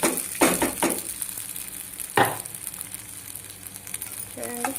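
Soaked sago pearls are tipped into a pan for sabudana upma and stirred, with a few soft clunks and scrapes of the spoon over a faint sizzle, close and quiet, with brief talk in the background.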